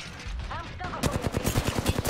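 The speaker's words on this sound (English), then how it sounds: "Oh, shots." Automatic gunfire in the video game Apex Legends, with a rapid burst of close shots that starts after a second of game ambience and then repeats quickly over brief voice sounds.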